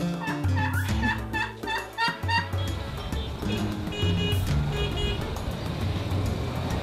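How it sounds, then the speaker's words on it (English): Chickens cluck and call repeatedly, loud and close, with traffic noise from a nearby road underneath. "Look at the chickens!"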